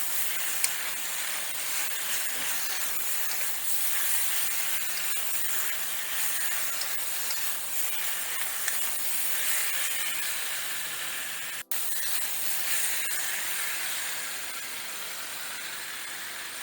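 Peppers and beef sizzling in a wok over high heat for a pepper steak with onions, a steady loud hiss of frying that runs continuously with no speech.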